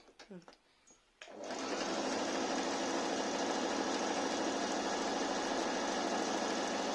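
A Singer Talent sewing machine runs a zigzag stitch, a fast steady mechanical whir after a brief pause and some faint clicks at the start, continuing evenly at close range.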